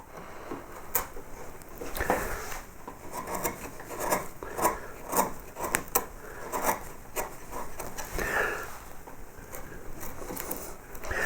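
Gouge carving wood for a hand-shaped vase, with rough rasping scrapes that come in short uneven strokes, fairly close and moderately loud, with no voices.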